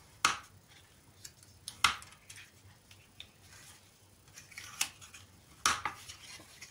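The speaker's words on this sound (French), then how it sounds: "je marque mes petits plis." Paper card being creased by hand into folds for a Stampin' Up! mirror cascade card, heard as a few sharp, brief crisp scraping strokes spaced apart over quiet room background.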